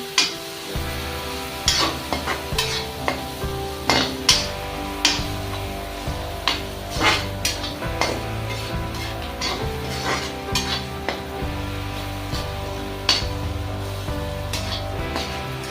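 Chilli and spice masala being stirred in a pan for a chachinda (snake gourd) sabzi, with a steady sizzle and a run of sharp spoon scrapes and knocks against the metal at an irregular rhythm, close and clear.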